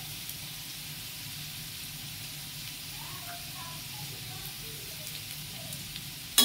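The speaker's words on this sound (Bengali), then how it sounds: "আলুটা বেশ ভাজা ভাজা হয়ে গেছে। এবার দিয়ে দেব নারকেলের কুচিগুলো।" Potatoes frying in a pan, with coconut pieces about to go in, give a faint, steady low sizzle close by, ending in a sudden louder clatter.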